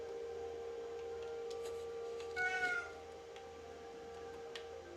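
A single short meow from a pet cat named Roast Beef, faint and somewhat distant against a steady electronic hum, with no one speaking.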